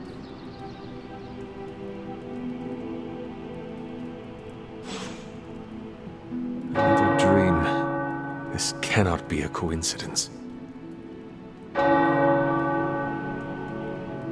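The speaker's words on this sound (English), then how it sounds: "The tower bells are ringing." Deep tower bells ring and sustain in the background in the video game Marvel's Midnight Suns, swelling louder midway, with a voice speaking briefly over the tolling.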